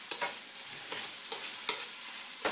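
Pork cooked through frying with garlic and ginger in a pan for ma po tofu, a steady close sizzle broken by several sharp stirring scrapes and clacks.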